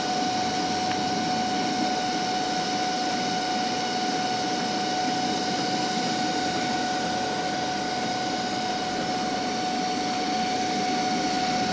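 A portable line boring machine bores boom lug holes in the field, giving a steady, continuous mechanical whine and hum at a constant level throughout, with no talk.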